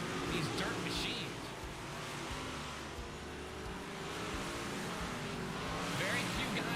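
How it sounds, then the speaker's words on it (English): Big block modified dirt race cars in iRacing roar in a continuous engine drone with rising revs, heard beneath someone talking throughout. "A lot of guys on iRacing absolutely love these dirt machines."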